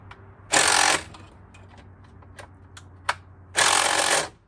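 A Makita power tool tightens a bolt on the fuel filter of a 2005 Freightliner Sprinter. Two short, loud, close bursts of whirring about three seconds apart, with faint clicks and a low hum between them.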